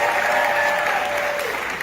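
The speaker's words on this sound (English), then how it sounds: "Another round of applause for my coworkers here, my partners." An audience at a downtown Fresno civic event breaks into loud, dense applause, a steady wash of many hands clapping close by that fades slightly toward the end.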